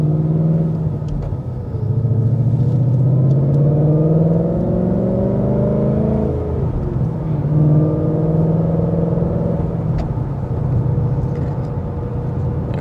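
A supercharged 710 hp Ford Mustang accelerates on the road, its engine a loud, steady droning rumble that rises in pitch through the gears and dips briefly before climbing again, with no talk.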